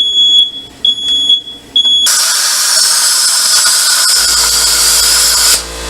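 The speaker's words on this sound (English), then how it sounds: "We set off the smoke detector." A smoke detector set off by stick welding in a garage beeps in short, loud, high repeated chirps, then a harsh, broadband hiss or grinding noise takes over and runs continuously.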